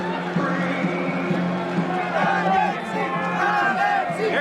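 A sellout boxing arena crowd of about 13,500 murmurs and roars steadily, a broad, continuous rumble of many voices with some shouting, with a commentator talking over it.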